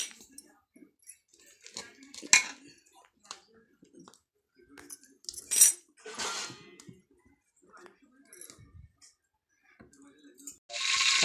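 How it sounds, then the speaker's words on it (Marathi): Cooked puran filling scooped out of a pot with utensils: scattered metallic clicks and short scraping bursts, some louder than others, separated by quiet gaps in a calm kitchen. "ते पुरण काढून घेते."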